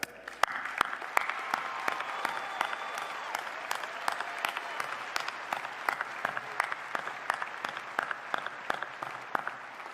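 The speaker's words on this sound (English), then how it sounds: "So please join me in a round of applause for all our graduates." An audience at a university spring commencement ceremony applauds the graduates, sustained, even clapping with sharp individual claps standing out, steady from start to finish at moderate loudness in a large open venue.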